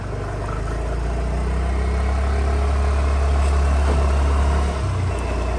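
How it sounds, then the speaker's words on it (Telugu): A motorbike engine climbs a hill road, a steady, loud low rumble that holds for about five seconds before easing off near the end. "మేము కొండ అయితే ఎక్కుతున్నాము బైక్ మీద"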